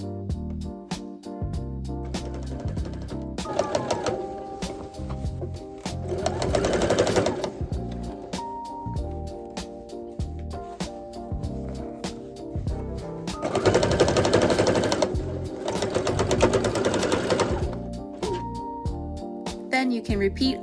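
A sewing machine stitching a seam in Sherpa fabric for cosplay shorts, running in rapid rhythmic bursts that speed up and slow down, with louder busy stretches and short pauses, close and clear over about twenty seconds.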